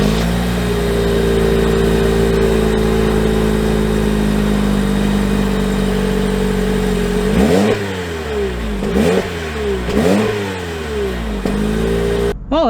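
A 2022 Toyota Corolla Cross base model's engine runs with a loud, steady hum, then rises and falls in repeated revs toward the end, close up and with no talking.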